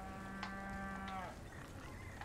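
A cow moos once in the Resident Evil 4 Remake video game, a long drawn-out low bellow lasting over a second against steady game background noise.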